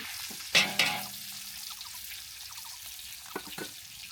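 Chopped onions drop into hot oil in a large pot for a whole goat dish, bringing two loud splashes followed by a steady frying sizzle and a few later clinks of stirring.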